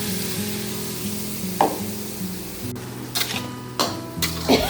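Paste of chili and tomato sizzles steadily as it fries in a pan, with a soft continuous hiss broken by a few light scrapes and clicks of stirring.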